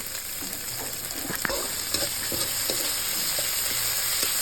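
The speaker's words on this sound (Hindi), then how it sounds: "अभी इसको हम फ्राई कर लेंगे।" Chopped tomato fried with salt in a pan for a sardine curry, a steady close sizzle and crackle with a few scraping stir strokes and no talk.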